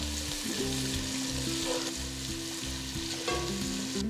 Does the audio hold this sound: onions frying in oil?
yes